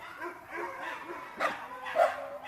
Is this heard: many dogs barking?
yes